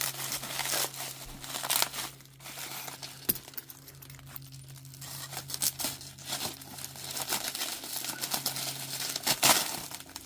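Crinkling and snipping of plastic packaging around a lot of watch hands being cut with scissors, irregular and close, with rustling in between.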